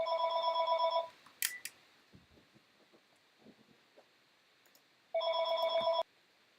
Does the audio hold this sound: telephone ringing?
yes